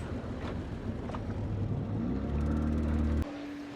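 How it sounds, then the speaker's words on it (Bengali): A speedboat engine on a lake at an amusement park drones steadily and close, its low hum rising slightly in pitch before cutting off abruptly near the end. "স্পিড বোটটা একটু হালকা ব্রেক করবে"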